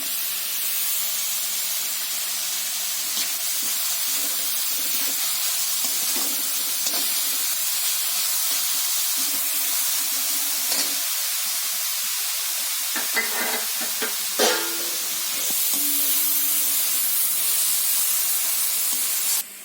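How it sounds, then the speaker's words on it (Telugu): Ginger garlic paste sizzles steadily in a hot pan, a constant broadband hiss running alone for about twenty seconds, with occasional brief stirring scrapes near the end. "అల్లం వెల్లుల్లి పేస్ట్ వేస్తున్నాను."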